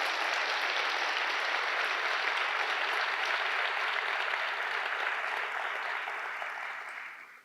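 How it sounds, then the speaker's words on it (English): Sustained audience applause at the 2022 SOAR Summit in Eastern Kentucky, a steady, full round of clapping from a large crowd that holds evenly for several seconds before tapering off at the end. "Can we give a round of applause for Rocky Atkins?"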